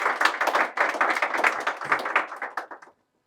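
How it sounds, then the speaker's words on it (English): An audience gives a round of applause at a talk on co-ops, brisk clapping that thins out and stops abruptly near the end, leaving silence. "let's give a massive round of applause to Jared"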